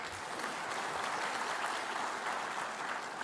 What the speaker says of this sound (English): So we have one round of applause for it.